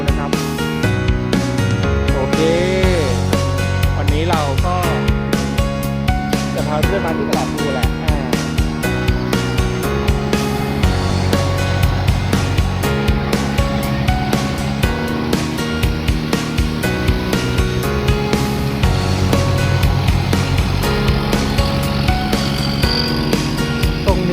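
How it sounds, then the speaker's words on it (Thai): A boat engine drones steadily and fairly loudly at the Talat Phlu river pier, with a continuous rhythmic chugging throughout. "อันนี้เป็นการวิ่งเรือของ ท่าเรือตลาดภู"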